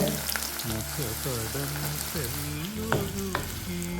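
Steady crackling sizzle of onions frying in hot oil with mustard seeds in a pan, with a few scraping stirs and a voice talking over it.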